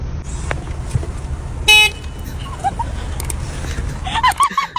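A single short car horn blast sounds near the middle, set against a low hum of road noise and faint background activity.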